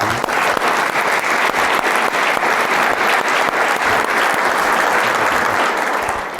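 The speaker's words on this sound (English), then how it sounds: "Let's give them a round of applause." An audience at a town's State of the Town Address applauds in a loud, dense, continuous burst of many hands clapping that holds steady for several seconds.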